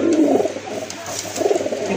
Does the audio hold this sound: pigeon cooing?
yes